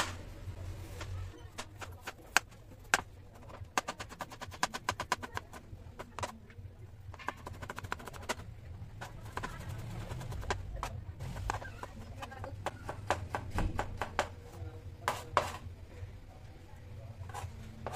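A knife slicing fresh ginger on a cutting board while preparing papaitan: quick, irregular light taps and chops in bursts, soft and close, with a low kitchen hum underneath.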